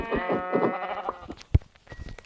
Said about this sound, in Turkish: Çok tatlı oluyor bakın koyunlar.